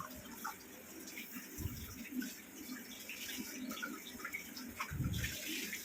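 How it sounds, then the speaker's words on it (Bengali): Tea cups being washed with soap under a running tap, faint steady water flow with scattered soft clinks and splashes of cups being handled, quiet and close. "চা খাওয়া হয়ে গেছে কাপগুলো একটু একটু মেজে নিচ্ছি একটু সাবান দিয়ে একটু মেজে নিচ্ছি"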